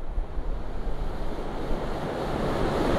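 Rushing river water where the Puyo and Pastaza rivers join in Pastaza, Ecuador, a steady broadband roar with wind buffeting the microphone, loud and continuous without voices.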